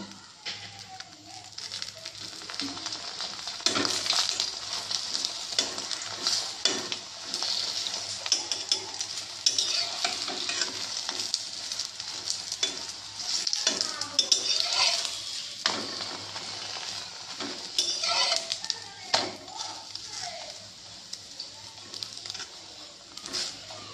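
An egg roll fries in a pan, with a crackling, pattering sizzle that rises and falls with stirring and handling while a voice talks at times.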